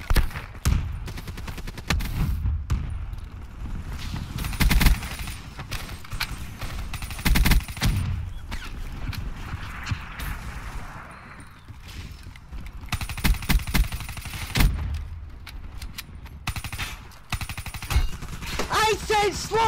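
Rapid bursts of automatic gunfire from Call of Duty Black Ops 3 repeat in loud clusters across the stretch, with heavy impacts and faint game effects between volleys.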